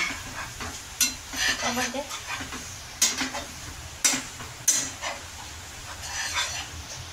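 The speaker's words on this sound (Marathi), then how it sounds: "खोबरं बारीक केलेलं आहे, त्याला आपण हलवून घेऊ छान असं. त्याला तुपामध्ये मिक्स करून घेऊया." Grated coconut roasts in ghee in a pan while a spoon stirs it, making soft scraping strokes and a few sharp knocks against the pan over a faint sizzle.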